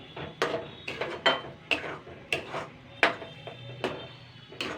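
A spatula repeatedly stirs and scrapes fish roe frying in a pan, sharp metallic clinks and scrapes at an irregular beat over a faint sizzle, close and clear with no voices.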